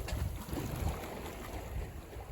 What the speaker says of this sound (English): The wind is very light.